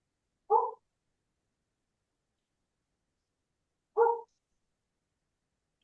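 A dog barks twice at a distance during an online class, with about three seconds of silence between the short, fairly faint barks.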